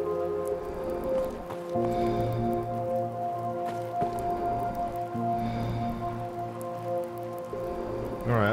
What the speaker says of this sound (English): it's a lot louder with the rain inside the house than outside the house